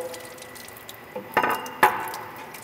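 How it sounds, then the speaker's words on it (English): Water splashes and trickles while a mortar and pestle, used as a hand crusher for separating minerals, is rinsed out: a faint running wash with two sharper splashes close by, and no voices. "So rinse out the mortar, rinse off the pestle"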